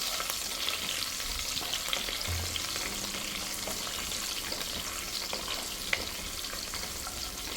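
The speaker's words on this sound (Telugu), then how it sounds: "సో ఇప్పుడు ఇవైతే కొంచెం చూసుకొని ఫ్రై చేసుకోండి." Green chillies, cut into large pieces, sizzle and crackle steadily in hot oil in a pan, with occasional stirring clinks, a close and continuous frying sound with no talking.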